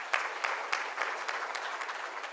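A crowd applauds at a distance at an economic forum, a dense patter of clapping with a few sharper claps standing out, steady for a couple of seconds.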